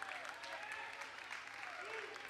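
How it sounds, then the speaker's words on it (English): Spectators clap during a glassblowing torch demonstration, a soft continuous smattering of applause heard at a distance with voices talking over it. "you can clap for anything. If you like something that you see, let them hear it"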